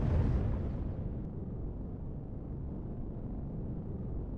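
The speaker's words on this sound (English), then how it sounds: "It makes the sound of explosions" Explosions in the space game Reforged Eden come as a dense, rumbling blast that is loudest at the very start, then settles into a sustained low roar that continues throughout.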